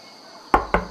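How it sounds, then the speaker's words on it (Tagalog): Three sharp knocks on a door, close and loud, arriving in quick succession after a quiet start with faint background hum. "Sino ba yung kumakatok?"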